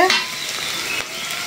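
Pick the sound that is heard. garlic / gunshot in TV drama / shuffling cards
garlic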